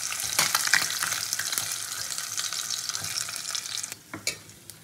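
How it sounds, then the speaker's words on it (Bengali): Pabda fish fry in hot oil, a dense crackling sizzle close by that fades slightly toward the end and is punctuated by a few sharp clicks of utensils, with no one talking. "মাছগুলো আমি খুব ভালো করে ভেজে নিয়েছি, এবার মাছগুলো আমি তুলে নেবো তেল থেকে"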